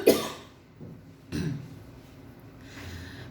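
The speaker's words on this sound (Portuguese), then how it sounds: "a tosse agora veio" Two separate coughs, a sharp one at the start and a second about a second later, close and fairly loud, with no talking around them.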